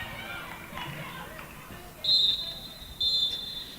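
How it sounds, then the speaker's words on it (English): A referee's final whistle at a Scottish women's football league match: two sharp blasts, the first longer, over a low murmur of crowd noise. "it is the final whistle in the league season for both these sides"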